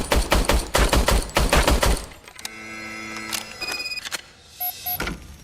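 Service weapon in the RoboCop: Rogue City video game: a quick burst of loud repeated shots, then a sputtering, stuttering misfire with mechanical whirs and electronic beeps.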